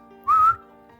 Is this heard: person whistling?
yes